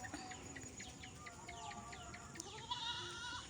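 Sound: goats grazing and bleating

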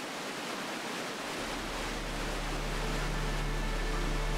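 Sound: water flowing over a river weir

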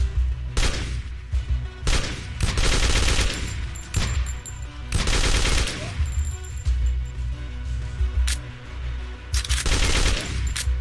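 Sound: enemy gunfire in the video game Be Gone Ghosts

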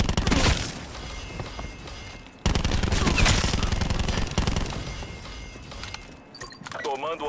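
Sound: gunfire in Call of Duty video game

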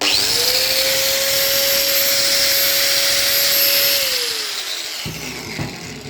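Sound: angle grinder running

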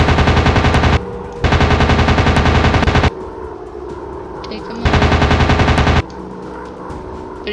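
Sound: machine gun fire from a warplane in a video game

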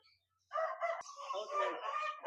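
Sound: rooster crowing, aseel breed

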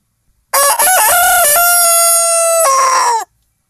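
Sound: roosters crowing

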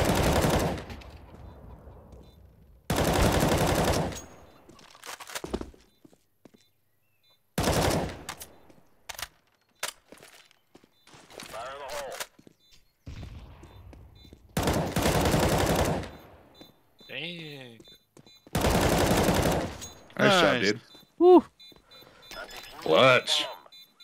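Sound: gunfire in the video game Counter-Strike: Global Offensive (CSGO)

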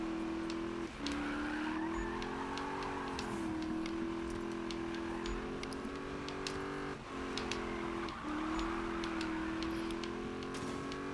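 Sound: car drifting with tire skid in Need for Speed 2015 video game

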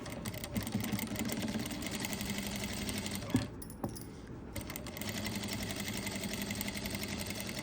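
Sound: sewing machine stitching along the neckline cut work

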